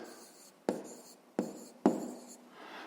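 A pen scratching out an answer on paper, with three sharp taps as the tip meets the sheet, each followed by short scribbling strokes, close and clear in a quiet room.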